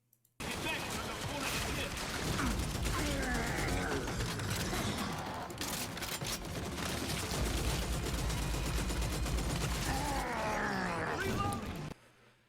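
Bots in a Godot-built game trade steady gunfire, rapid shots blending into a dense, continuous clatter with sharper bursts, while someone talks throughout.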